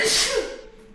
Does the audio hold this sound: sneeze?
yes